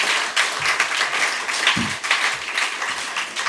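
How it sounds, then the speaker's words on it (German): An audience at a podcast conference event applauds, a dense, steady burst of many hands clapping that fills the room for several seconds without talk. "Nochmal einen wirklich ganz herzlichen Applaus äh, an die Leute, die hier außer mir das betreiben."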